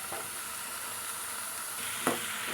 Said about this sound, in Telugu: ఇప్పుడు టమాటా వేస్తున్నా రెండు టమాటాలు